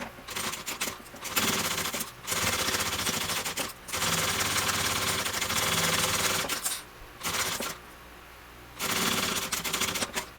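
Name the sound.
sewing machine top stitching a bag lining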